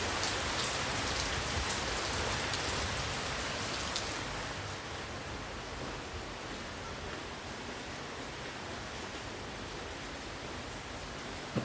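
Steady rain pours down in a dense, continuous hiss, loud at first and easing slightly to a constant patter.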